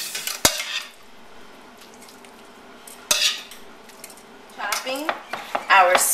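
Cooked zucchini tipped from a pan into a bowl of chopped spinach for a cream cheese manicotti filling: two sharp metal clanks against the cookware, a quiet pause, then a cluster of scraping and clinking utensil sounds near the end.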